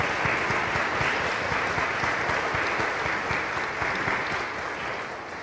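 An audience at a conference on women's global impact bursts into sustained applause, many hands clapping in a dense, even roar that fades slightly toward the end.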